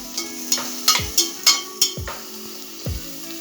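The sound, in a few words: stirring vegetables frying in a pan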